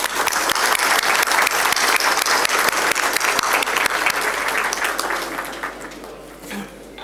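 Audience applause for military officials at a U.S. Independence Day celebration: a full, sustained round of clapping from a large crowd, loud and even for about five seconds before tapering off.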